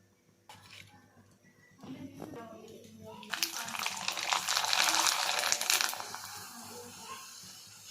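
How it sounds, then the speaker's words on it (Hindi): Homemade semolina papad fried in hot oil, a rising bubbling sizzle that swells after a few clattering kitchen sounds, with a person talking quietly near the start. "तो चलिए चलते हैं, फ्राई करते हैं।"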